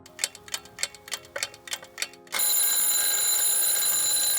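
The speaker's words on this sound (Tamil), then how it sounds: "அடிச்சது ஒரு அலாரம்." A clock ticks about eight times at an even pace, then an alarm clock bursts into loud, continuous ringing.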